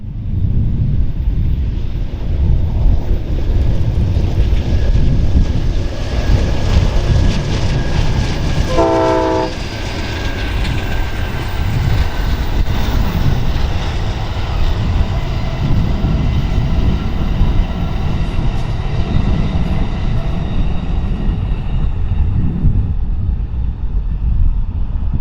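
Amtrak Southwest Chief passenger train rolling through Glorieta Pass in New Mexico, a heavy continuous rumble of wheels and cars with wind buffeting the microphone and a brief horn blast partway through.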